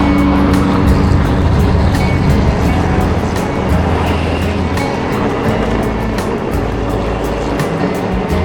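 A Handoyo intercity bus passes fast on a Sumatran road, with a loud, continuous roar of engine and tyres filling the whole stretch, heard close from a moving vehicle.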